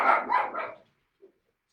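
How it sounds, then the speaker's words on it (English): A dog barking indoors in a short burst of several quick, close yips that stop abruptly, followed by near silence and one faint, brief sound. "Did you guys hear the dog? He's freaking out."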